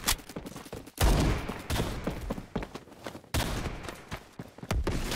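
Rapid gunfire from a gun in Roblox plays as repeated sharp bursts of shots, loud and close, with brief gaps between volleys.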